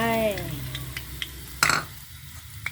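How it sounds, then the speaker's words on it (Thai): Garlic drops into hot oil for a stir-fry of long beans and pork sausage, giving one sharp burst of sizzling hiss. Faint clinks of a spatula in the pan come before and after it. "น้ำมันร้อนแล้วกระเทียมลงไป"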